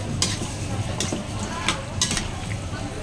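Chicken menudo stirred in a pan with a spoon, with a steady low sizzle underneath and scraping strokes repeating about every second.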